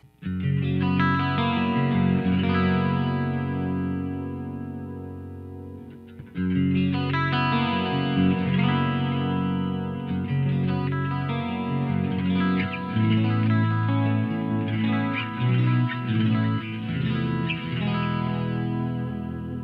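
An electric guitar plays chords and notes through the clean channel of a Two Notes ReVolt amp, with effects on. The playing is loud and sustained, with a short pause partway through before it resumes. No one speaks.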